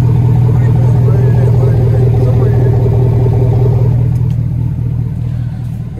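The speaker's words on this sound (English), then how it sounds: "But before we cut the cats, this is how it sounds." Steady idle rumble from the exhaust of a 2007 Chevrolet Silverado with the 4.8 V8, catalytic converters still fitted, close to the tailpipe: a continuous low drone with a slight ripple that eases off a little toward the end.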